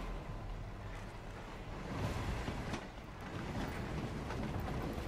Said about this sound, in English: now we're back on a open train